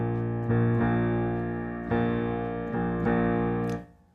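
A piano plays the new rhythm pattern from a song as a few struck chords, each ringing and decaying before the next, ending in a short clatter. The playing is fairly soft and solo.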